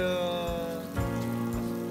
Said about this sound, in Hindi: बारिश बहुत ही ज़्यादा हो रही है